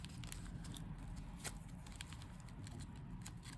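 Coffee-dyed tracing paper crinkles and crackles close up, a dense run of soft rustles and sharp crisp snaps lasting a few seconds, no talking.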